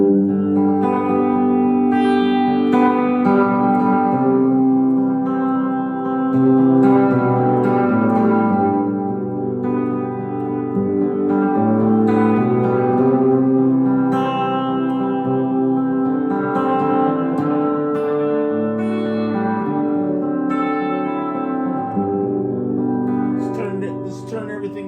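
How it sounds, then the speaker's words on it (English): Electric guitar played through an Electro-Harmonix Epitome multi-effects pedal with its Holy Grail hall reverb, sustained chords and notes washing into a long, spacious tail that keeps ringing under the playing. "Adding the Holy Grail Hall reverb."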